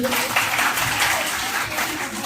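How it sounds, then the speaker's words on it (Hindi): Children applauding for a girl at a Mission Shakti good touch/bad touch awareness session at a university in India: a steady, dense wash of clapping throughout, fairly close and even, with faint voices mixed in. "ताली बजाओ बच्ची के लिए।"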